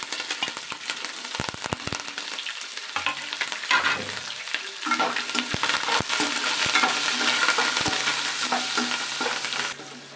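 Onions, curry leaves and green chillies frying in oil while a spoon stirs them, with a steady sizzle and repeated scraping strokes against the pan that grow denser and louder toward the end.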